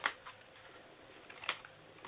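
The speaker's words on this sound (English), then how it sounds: "Cut that top part off. And then cut into these." Small handheld snips cut paper for a mini gift box, giving two sharp, close snipping clicks about a second and a half apart in a quiet room.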